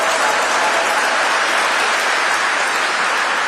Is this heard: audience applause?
yes